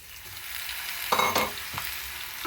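Potatoes for skillet breakfast potatoes hit hot oil in a skillet, a steady close sizzle swelling into a brief, louder burst of crackling midway before settling back to a low hiss.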